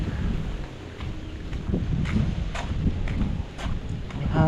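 Southwest monsoon wind gusts across an open farm area after rain, a steady low rumble of wind buffeting the microphone with faint rustling, rising and falling in loudness throughout.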